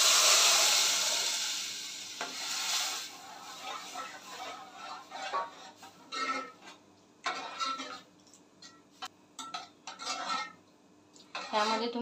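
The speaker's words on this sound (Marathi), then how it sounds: "यामध्ये आता आपण घालूया शिजवलेली चणा डाळ।" Cooked chickpea dal is tipped into a pan and stirred, with a soft pour followed by repeated scraping and clinking of a spoon against metal, moderately close, without speech.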